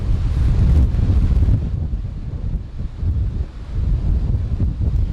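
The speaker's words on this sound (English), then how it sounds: "The wind is noticeably stronger. Lots of wind gusts that we're feeling right now." Strong hurricane wind gusts buffet an outdoor microphone in Southport, North Carolina, a loud, continuous low roar that surges and eases in waves with no voices.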